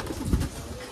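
Pigeons coo at a pigeon auction in Bayrampaşa, Istanbul, giving a short, low, soft burst of cooing over a busy indoor room murmur.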